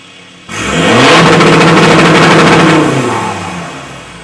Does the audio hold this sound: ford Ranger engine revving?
yes